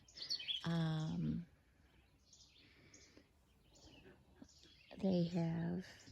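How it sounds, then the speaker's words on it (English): Two bursts of clear, bright bird chirps a few seconds apart, with softer, more distant chirping and faint ambient noise between them outdoors at a lakeside campground in the Adirondack Mountains. "You're out with nature, hearing the bullfrogs,"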